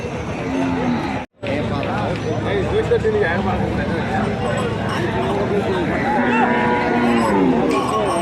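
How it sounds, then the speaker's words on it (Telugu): Large Ongole bulls at a busy Indian cattle market, with steady crowd chatter and voices throughout, a brief cut near the start, and animal sounds blended into the dense background noise. "ఫ్రెండ్స్ ఇవి లక్ష నలభై వేలు చెప్తున్నారు చాలా పెద్ద ఎద్దులు బాగున్నాయి"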